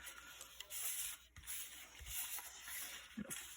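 Paper book pages are folded and burnished, giving soft close rubbing and shuffling strokes with a few light creases and taps, quiet and without talk.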